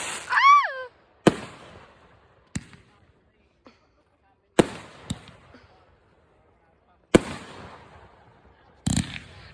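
Fourth of July fireworks going off at close range, several sharp loud bangs spaced a second or two apart, each with a crackling tail, plus a brief rising whistle at the start; people react between blasts.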